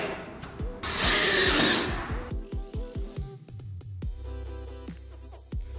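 A power drill drives screws into metal roof gable trim. A loud whirring burst is followed by a run of short, rhythmic pulses and then a steady spin, all close with no talk.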